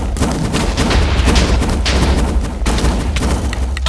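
Gunfire in the shooter video game IronFall, a loud dense stream of rapid shots and booms with no pauses.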